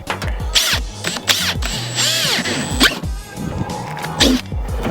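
A power drill bores holes for mounting lights in a busy, clattering run of repeated whirring bursts and spinning-down tones, mixed with knocks and handling noise at close range; no speech.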